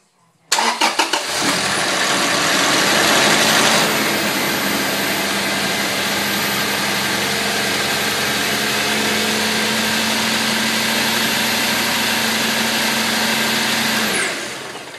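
A 2010 Toyota Tacoma 2.7L four-cylinder engine cranks briefly and catches, then settles into a steady, loud, close idle with a constant high whine, running evenly until cut off near the end.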